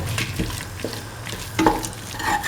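Bell pepper and scrambled egg sauteing in a pan, with a soft steady sizzle broken by a few sharp scrapes and clicks of a spatula stirring against the pan, close and moderately loud, no voices.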